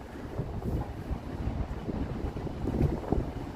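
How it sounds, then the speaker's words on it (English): Gusty wind buffets the microphone in a steady low rumble on a Toronto street in late afternoon, swelling and surging throughout with no voices. "a mild but very windy Sunday late afternoon"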